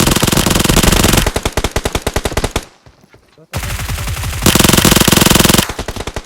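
Loud, rapid automatic gunfire in a shooter video game: rhythmic, closely spaced bursts that stop for about a second, then resume at full volume.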